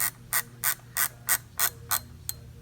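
A cap is screwed onto the magazine tube of a Beretta A400 Xcel shotgun. It gives seven evenly spaced ratcheting clicks, close and distinct, over a quiet background with no voice.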